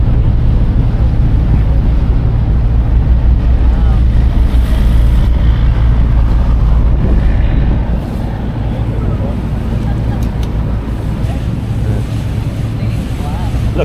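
A motorboat engine drones steadily on the water in Bangkok, loud and close, with wind noise and splashing that eases slightly toward the end.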